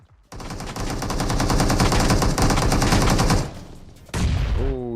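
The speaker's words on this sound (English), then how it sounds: "Oh, the shots, Riz." Sustained close automatic gunfire in PUBG Mobile during a competitive esports match, a loud dense burst lasting several seconds, a short pause, then another burst with a whooshing effect trailing off.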